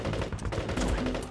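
Gunfire in a war drama battle scene in a village, a dense, loud burst of rapid shots filling the moment.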